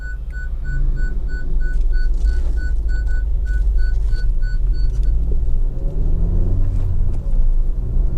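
A Honda Civic 1.8 i-VTEC SR Tourer idles with a steady low engine rumble inside the cabin while a repeating parking-sensor beep chimes over it for about five seconds, then stops as the engine hum continues.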